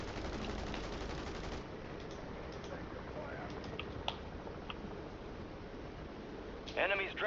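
Gunfire in Warzone 3 Plunder mode: quick bursts of rapid shots early, then scattered faint pops and a sharper cluster near the end, mixed with game sounds and low talk.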